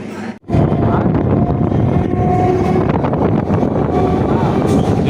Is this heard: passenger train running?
yes